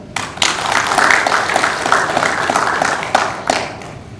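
An audience applauds at a cable car promotion committee reorganization meeting held in the Gurye culture and arts hall, with steady, moderately loud clapping and a few sharper claps near the end.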